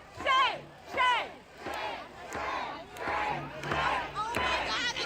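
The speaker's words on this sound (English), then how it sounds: "And listen as they cheer his ass the fuck up out of there." A large crowd shouts in unison, its rhythmic chant rising and falling in about six loud surges, with voices overlapping throughout.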